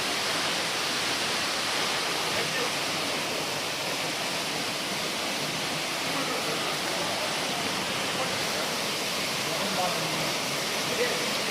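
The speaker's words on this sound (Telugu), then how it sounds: "వాటర్ ఫాల్స్ చూసారండి ఎట్లా వస్తుందో, మామూలుగా రావట్లే." A waterfall beside a ghat road near Rampur, rushing down with great force, a dense, loud, unbroken roar that fills the whole stretch without pause.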